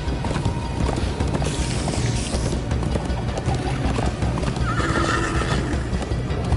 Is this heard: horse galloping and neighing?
yes